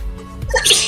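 A single close sneeze bursts out during a relaxed podcast conversation, sharp and brief, with a breathy intake before the loud release.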